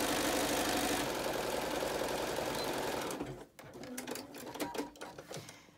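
Close, loud, rapid rhythmic whir of a sewing machine stitching a fabric face mask along the fold, running steadily for about three seconds before stopping into softer fabric handling and clicks.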